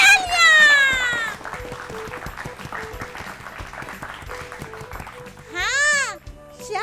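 Studio applause for a correct quiz answer on a children's fun-learning show about yoga, a steady patter of clapping framed by bright rising and falling electronic sound-effect sweeps at the start and near the end.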